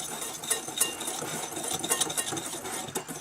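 Sugar, almond powder and cinnamon stirred together in a bowl for a brioche craquelin topping: steady scraping and clinking of a utensil against the bowl, with short bright ticks, close and fairly quiet, no talk.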